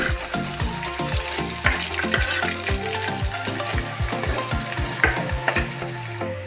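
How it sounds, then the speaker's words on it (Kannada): Onions fry in hot butter and oil with a loud, constant sizzle, while a spoon scrapes and taps the pan in a regular stirring rhythm up close. "ಎಣ್ಣೆ ಮತ್ತು ಬೆಣ್ಣೆ ಎರಡೂ ಕಾದಿದೆ. ಈರುಳ್ಳಿ ಹಾಕೋತಾ ಇದ್ದೀನಿ."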